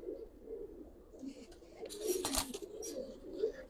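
Giribaz pigeons cooing in a loft, soft low throaty coos rising and falling close by, with a brief rustle and faint background noise.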